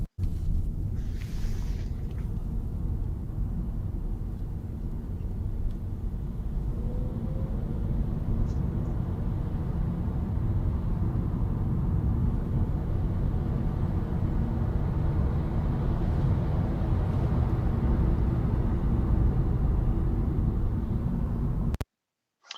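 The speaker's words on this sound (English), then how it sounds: "I'll play you the interior sound of our demonstrator car, which is a Nissan Leaf, before the sound system has been switched on" Inside a Nissan Leaf electric car while driving with the sound system off: a steady, fairly loud low rumble of road and wind noise holding constant for about twenty seconds before stopping abruptly.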